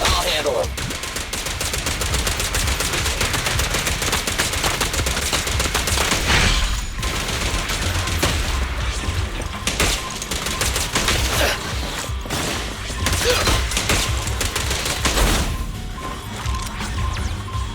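Gunfire in the video game Zenless Zone Zero, a loud, unbroken stream of rapid shots and impacts that goes on for many seconds with brief dips and crashes.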